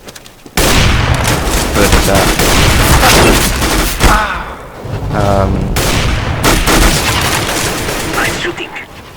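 Sustained rapid gunfire in Counter-Strike, dense overlapping shots and bursts that form a continuous loud barrage for several seconds, with a voice briefly cutting in.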